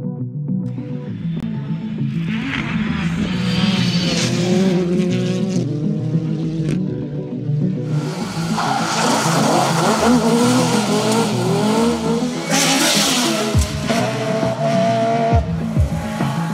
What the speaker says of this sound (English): we can hear the echo of a rally car coming up